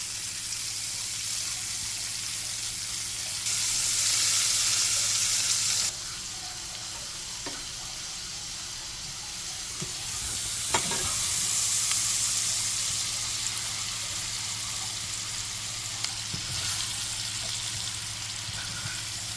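Onion, garlic and butter frying in a pan for pork chops, a steady close sizzle and hiss that swells in two louder stretches, with occasional light scrapes of stirring and no talking.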